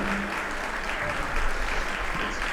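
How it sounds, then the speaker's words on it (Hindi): Sustained, loud applause from an audience in an assembly hall at a Jain religious discourse session, a steady dense clapping that fills the whole stretch with no speech over it. "एक बार जोरदार तालियां सदन की तरफ से हमारे गुरुवर के चरणों में"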